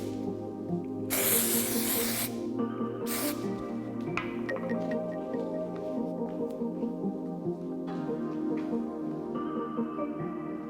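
Texturizing dry hairspray is sprayed onto hair in two hissing bursts, a long blast then a short one, over a steady background hum.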